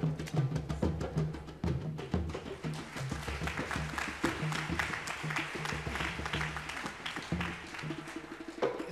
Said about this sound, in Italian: questo applauso sia per noi